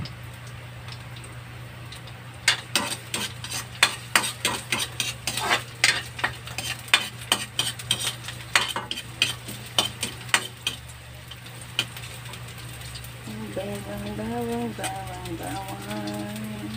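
Garlic sautés in a pan, with a run of sharp rhythmic spatula taps and scrapes over a low sizzle, then a brief voice near the end.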